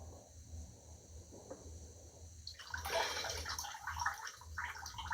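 Water being poured out of a container, a faint low rumble that builds into a louder splashing, gurgling pour over the last couple of seconds.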